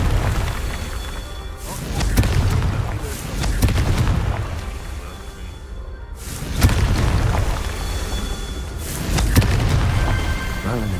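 Booming blasts of the Confringo blasting spell in Hogwarts Legacy, several heavy explosions rolling out one after another at intervals of a few seconds, loud and close, with a game voice occasionally under the bursts.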